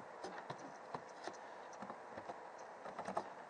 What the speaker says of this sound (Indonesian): Kemudian di sini kita ketikkan